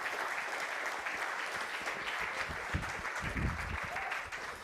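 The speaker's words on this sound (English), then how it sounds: "start with a round of applause for them and for every one of you that actually stayed here" A conference audience at a Latin American artificial intelligence meeting applauds the organizers, a fairly quiet, steady wash of clapping from a room with a few louder nearby claps partway through.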